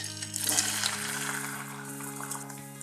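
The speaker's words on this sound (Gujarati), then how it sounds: "તેલ ગરમ થાય એટલે પહેલા આપણે પનીરને તળીને તૈયાર કરીશું।" Paneer frying in 4 tablespoons of hot oil in a kadai gives a steady close sizzle with bubbling crackle, with a low steady hum running underneath throughout.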